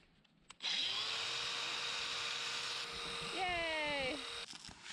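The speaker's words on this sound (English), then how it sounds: "I'm very happy the angle grinder started up again." A stalled angle grinder, used for laying stone on an off-grid barn conversion in Portugal, whines back up to speed and runs steadily at a high pitch, its tone dipping and rising under load near the end.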